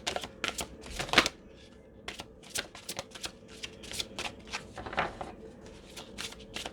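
A deck of ascended master oracle cards shuffled by hand, heard as quick close riffles and snapping taps in an uneven rhythm with no talking.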